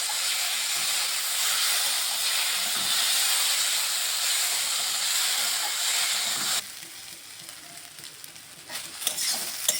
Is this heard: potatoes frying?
yes